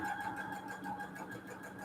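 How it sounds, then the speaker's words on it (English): A sewing machine bought secondhand hums steadily up close, a continuous mid-pitched mechanical whir with faint rhythmic stitching pulses and no talk. "This is my sewing machine, and this is what I'll be using on my channel from now on."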